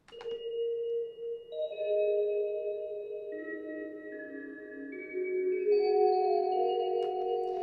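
Soft bell tones ring out one after another, each note lingering and overlapping in a heavy, washy reverb.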